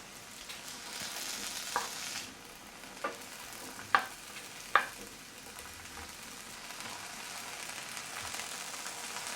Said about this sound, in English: I can hear it starting to sizzle.